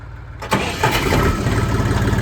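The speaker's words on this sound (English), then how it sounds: "to start the tractor, you must have your foot on the clutch all the way down" A tractor engine cranks over briefly, then catches and settles into a steady, loud rumbling idle close by.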